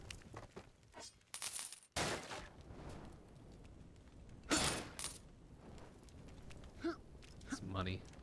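Coins dropping in the ancient Greek action game Apotheon, several sharp metallic jingles and clatters scattered across the scene, nearby and fairly loud, with someone talking in between.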